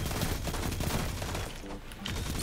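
Rapid sidearm fire in the shooter game Destiny 2, a dense, loud burst of overlapping shots that barely lets up across the moment.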